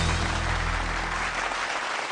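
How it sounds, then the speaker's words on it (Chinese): On a televised singing competition, a studio audience applauds to welcome a contestant about to sing. The clapping is steady and broad, forming a brief, continuous wash of applause. "掌声欢迎他。"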